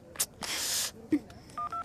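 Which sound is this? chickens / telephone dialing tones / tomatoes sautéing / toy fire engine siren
telephone dialing tones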